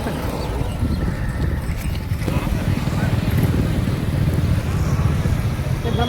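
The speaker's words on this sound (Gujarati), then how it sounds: "એ ગાયો આવી ગાયો આવી" Cows' hooves clatter on a hard road as they walk past, a steady uneven clopping with voices calling out over it.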